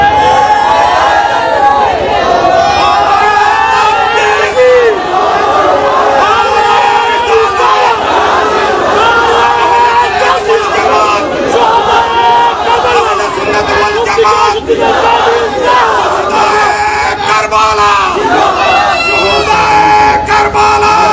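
A large crowd at a religious waz gathering roars and chants slogans together, dense and loud throughout, with massed voices blending into a continuous rallying din.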